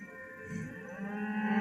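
Cows mooing in the cooking video game Bake or Die: a low, drawn-out bovine moo that grows louder toward the end, heard alone without talking.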